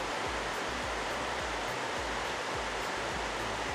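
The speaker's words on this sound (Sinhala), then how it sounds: "ඔයාලට පේන හැටි වතුර වැටෙනවා." Water falling steadily near a river at a resort during rain, a continuous broadband rush with faint low rhythmic thumps underneath, quiet and unbroken.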